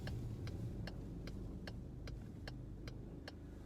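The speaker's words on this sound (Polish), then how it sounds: "No słychać diesla, słychać akurat silnik" A steady low diesel engine hum from a cold-started Peugeot 2008 1.5 BlueHDi 100 hp with EAT8 automatic fills the cabin, with a faint, regular ticking repeating about every half second on top.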